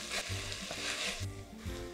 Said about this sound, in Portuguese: Enquanto a cebola vai refogando, já pode acrescentar o alho.